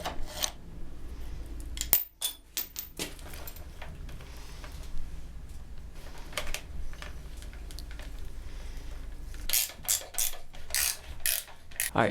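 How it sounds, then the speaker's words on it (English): A ratchet with a 1-inch socket works a nut on a 1971 Honda CT90, giving quiet close-up clicking ratchet strokes and metallic rubbing, with a cluster of louder, faster clicks near the end. "So I got this 1-inch socket which fits on there pretty well."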